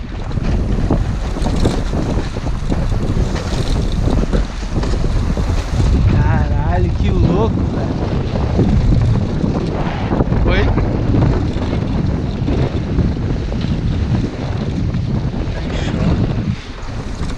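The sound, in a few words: strong wind at sea on a small 16-foot sailboat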